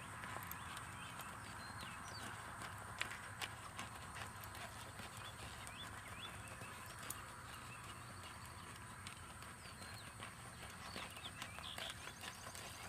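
A horse walks during a riding drill, its hooves giving a faint, steady clip-clop rhythm over a hiss of outdoor background noise, with occasional birds.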